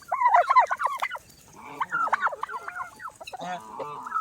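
Chickens cluck and squawk close by in quick, choppy bursts, several calls overlapping with brief pauses between them.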